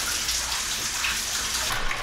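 Water gushes steadily from a tap into a bathtub as it fills, a continuous bright splashing rush lasting about two seconds, close and alone.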